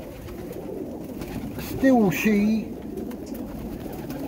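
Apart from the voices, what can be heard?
pigeons cooing in a pigeon loft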